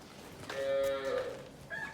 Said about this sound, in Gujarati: આ રહ્યો બળદ છે